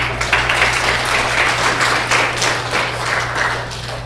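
A church congregation applauds during a service: thick, continuous clapping with a steady low hum running beneath it the whole time.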